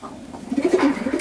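Long-distance racing pigeons kept in a loft give a short run of low, throaty coos, a few quick pulses close by with no one talking.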